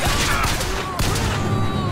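A burst of rapid gunfire crackles sharply, followed by a brief pause and another shot, loud and close, in the game Bioshock Infinite.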